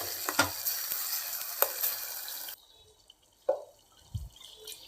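Lentils for gongura dal are stirred into fried onion and garlic in a pan: close sizzling and spoon scrapes first, then a quieter stretch with a few soft wet stirs and drips.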